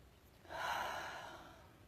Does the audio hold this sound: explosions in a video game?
no